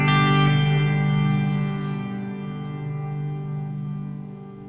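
An electric guitar note run through a HeadRush reverb set to 4.9 rings out and slowly decays into a long, washy tail, loud at first and fading gradually, with no voice.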